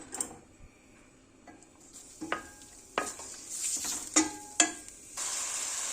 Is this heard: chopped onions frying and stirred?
yes